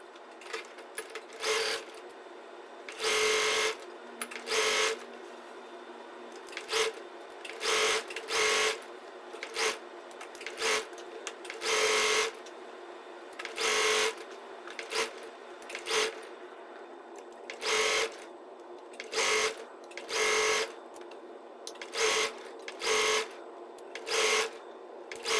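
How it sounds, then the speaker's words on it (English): A sewing machine stitching collar binding runs in repeated short bursts of whirring, stopping and starting across the span, close and clear with no voices. "I just finished sewing the collar binding on this side"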